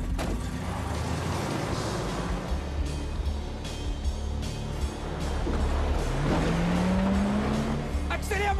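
A getaway car accelerates hard, engine roaring steadily near and loud, with a rising whine and a tire squeal toward the end.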